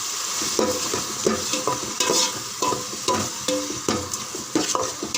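Tomatoes for a mutton curry sauté in a pan while a spoon stirs with repeated clinks and scrapes against the metal, a soft sizzle running underneath throughout.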